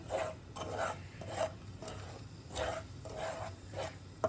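Amaranth flour sheera stirred in ghee in a pan, heard as soft, repeated scraping strokes of a spoon against the pan in a slow, regular rhythm with a faint background sizzle.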